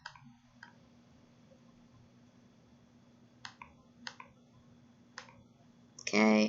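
Computer mouse clicks in graphic design software, a few sharp isolated clicks spaced over several seconds against a quiet room, with a louder burst of a voice at the very end.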